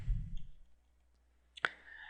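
A single sharp computer mouse click on a PayPal sign-up page, crisp and close in near silence, after a brief low rumble at the start.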